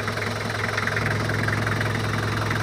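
A rebuilt Toyota 2L diesel engine idles steadily at close range, a constant low knocking rumble with even vibration and no voices.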